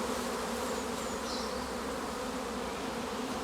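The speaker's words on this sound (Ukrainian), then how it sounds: "ну а тут походу якийсь інший рій сідає" A dense, steady buzz of a honeybee swarm settling close by at an apiary, filling the air continuously with no pauses.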